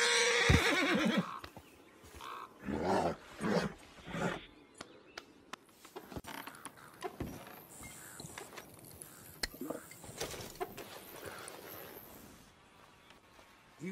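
A horse neighs and whinnies up close in a video game near a stable, loud bursts early on, followed by scattered clip-clop hoof steps and small game noises; a voice speaks briefly.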